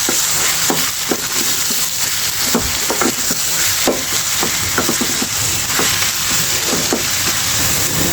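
Red amaranth greens fry in a pan with a continuous loud sizzle while a spatula stirs them, scraping and tapping against the pan at irregular intervals, close by.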